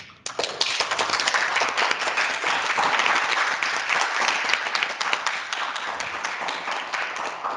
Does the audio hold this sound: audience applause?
yes